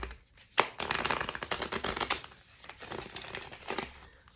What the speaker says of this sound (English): I'm shuffling on my leg right now, like kind of on my thigh.